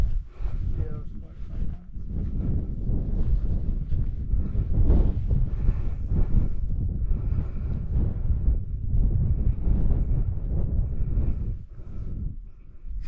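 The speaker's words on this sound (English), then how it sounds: "A wee bit of chilly wind" Chilly wind gusting across a mountain summit in Knoydart, buffeting the microphone in loud, continuous rushes with faint voices mixed in.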